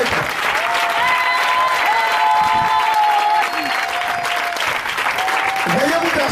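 A church congregation bursts into sustained, dense applause and cheering acclaim, loud and continuous throughout, with a voice and sustained musical tones carrying over the crowd.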